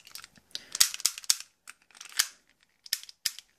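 Repeated dry-fire clicks and slide snaps from a Western Arms Beretta M84fs Cheetah airsoft pistol, a double-action gas blowback replica, arriving as sharp, close mechanical clacks in loose bursts with short pauses.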